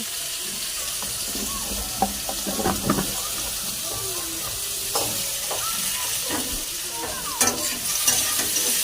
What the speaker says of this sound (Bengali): ভাজা হওয়ার পরে নুন হলুদ দিয়ে ভালো করে মশলাটা কষিয়ে নেব।